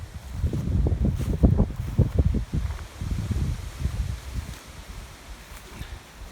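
Gusty wind on an Appalachian mountaintop buffeting the microphone in low rumbling surges, strong at first and easing off toward the end.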